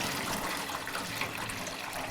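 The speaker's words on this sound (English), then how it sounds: "Just try and dump the water off the top." Several gallons of water poured off the top of a birch sap evaporator pan built from an old woodstove, a steady close splashing gush that holds for the whole moment.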